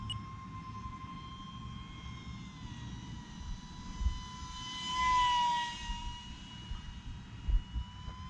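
An E-Flite UMX MiG-15 28mm EDF RC jet makes a steady high whine overhead, swelling briefly as it speeds past, with outdoor background noise beneath.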